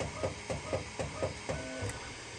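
A Bambu Labs P1P 3D printer runs its start-of-print routine, giving a close, regular series of motor pulses about every quarter second over a constant fan hum.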